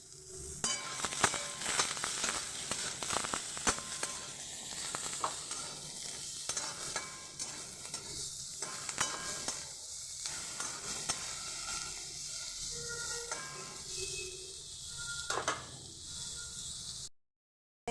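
Betho shak greens are fried with salt and turmeric in a kadai, producing a continuous oily sizzle under repeated spatula stirring and scraping, up close and unbroken until it cuts off abruptly.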